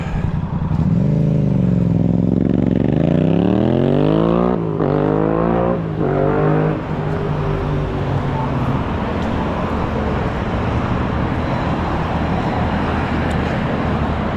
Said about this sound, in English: The person on the motorcycle saw I was recording. So they had to show off a little, give it some revs.